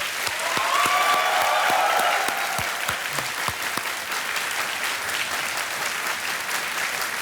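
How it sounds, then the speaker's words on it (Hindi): Audience applause on a studio game show set, a dense burst of many hands clapping that starts loud and then settles into steady, slightly softer clapping across the whole stretch, with no talking over it. "एक बार जोरदार तालियां बजाएं"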